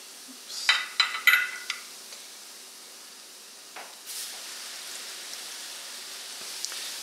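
Rosettes (buñuelos) crackle and sizzle in hot frying oil, with a few sharp pops early on before settling into a soft, steady hiss.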